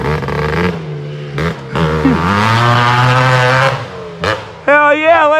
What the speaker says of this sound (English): Hell yeah, letting that old Quadzilla fucking eat, dude.